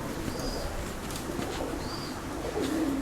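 Golden pigeons at a pigeon keeper's house in Karachi give soft, low cooing calls, faint against a steady background hush.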